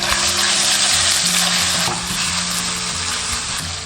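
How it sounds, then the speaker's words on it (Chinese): Minced pork sizzles loudly in hot oil in a wok while being stir-fried, a steady dense crackle with faint scraping from stirring, close and without voices. "再倒少许食用油，下入肉末炒香"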